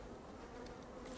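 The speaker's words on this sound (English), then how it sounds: "there are tons of bees" A swarm of bees hums steadily in Don't Starve Together, a continuous buzzing drone with a few sharper high flickers near the end, faint but unbroken and free of speech.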